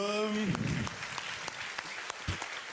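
Audience applause at a web comedy awards ceremony: a brief burst of clapping that follows a short stretch of voice, with scattered sharp claps fading out over a few seconds.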